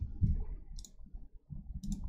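A computer mouse clicks a few times at a desk while working in DesignShop software, brief sharp ticks over a low room rumble and faint handling noise.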